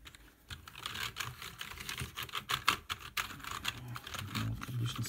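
Computer keyboard keys being wiped with 90% alcohol on a cloth, giving a run of quick, irregular clicks and rattles of the keys close by, with no talking.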